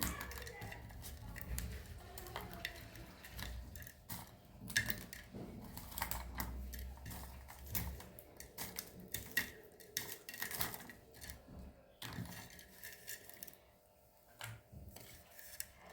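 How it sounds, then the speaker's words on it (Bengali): Dried red chilies crushed by hand with salt for a surma fish bhorta, giving close, dry crackling and rubbing with scattered crisp snaps throughout. "এখন আমি শুকনো মরিচে লবণ দিয়ে শুকনো মরিচটা আগে এইভাবে করে ভেঙে নিয়েছি"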